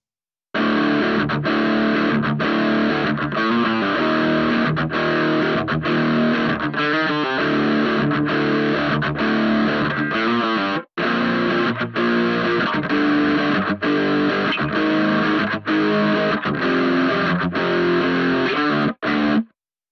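A heavily distorted electric guitar, a Glorious drive pedal into an overdriven amp, plays chunky, sustained chords with a bright, fizzy top end, loud and continuous, with a brief break midway.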